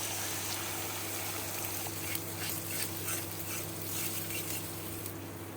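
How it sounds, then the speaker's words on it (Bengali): Beaten egg sizzles in a pan of fried onions for egg bhurji, a continuous close hiss marked by a few soft stirring taps, with no speech. "পেঁয়াজটা ভাজা হয়ে গেছে, এবারে আমি ডিমটা দিয়ে দিচ্ছি।"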